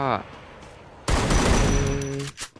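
Gunfire in the Free Fire battle royale game, heard as a sudden loud, sustained burst of rapid shots that follows a brief voice and then trails off near the end.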